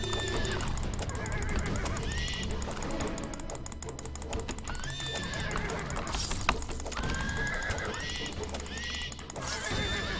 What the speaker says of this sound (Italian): Fanno dei rumori tipo dei cavalli,